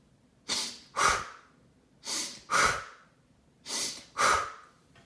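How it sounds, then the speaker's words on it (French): Short, brisk breaths taken during a relaxation exercise, three pairs of sharp nasal inhales and exhales spaced evenly, close and clear against a quiet background. "en prenant une respiration plus courte et plus tonique"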